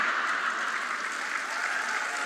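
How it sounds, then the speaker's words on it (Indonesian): Applause from a church audience during an online Sunday sermon, an even, continuous patter of many hands clapping at moderate volume with no break. "Nggak usah tepuk tangan."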